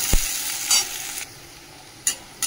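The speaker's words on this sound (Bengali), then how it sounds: "চলো পেঁয়াজ আর রসুনটা একটু ভাজা হোক।" Chopped onion and garlic fry in a pan, a bright sizzle with a few sharp stirring scrapes and clicks near the start and end, close and moderately loud, with no talking.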